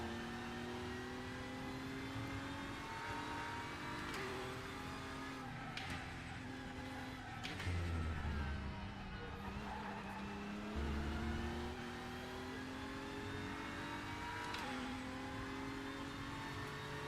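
Race car engine in the sim game RaceRoom, a steady loud drone whose pitch rises through gears and drops on shifts, with brief low thumps and tire scrub around corners throughout, no talking.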